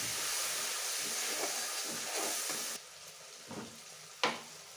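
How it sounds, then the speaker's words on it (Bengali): Spice paste being fried down in a pan for Bengali dim motor dhoka gives a steady, loud sizzling hiss that suddenly drops quieter, followed by a couple of sharp utensil clinks. "এই মশলাটা এখন ভালো করে কষিয়ে নেব"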